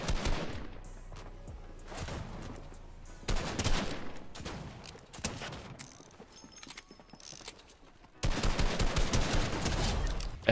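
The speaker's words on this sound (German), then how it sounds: "Der neue Revolver, mal schauen, was er kann." A new revolver in the video game Fortnite fires in rapid bursts of gunshots mixed with mechanical clicks and clattering game sounds, loud and close with dense stretches of gunfire, no speech.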